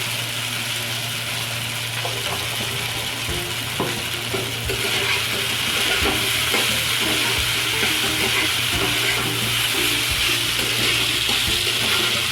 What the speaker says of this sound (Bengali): পাস্তাটাকে আমি একটু ভালো করে ভেজে নেব, নাড়াচাড়া করে